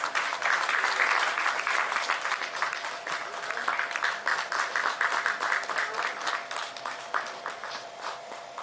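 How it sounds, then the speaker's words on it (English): A university law faculty valedictory audience applauds award winners with steady, sustained clapping, a dense round heard at moderate distance that carries on throughout. "Please give them a huge round of applause"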